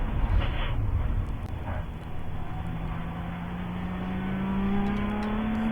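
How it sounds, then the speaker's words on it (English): A race car engine drones steadily from inside the cockpit during the ChampCar 14 Hours of Daytona endurance race, its pitch slowly climbing, with a brief rough gear crunch lost in the loud, constant mechanical roar. "Sound like there's some crunching gears there."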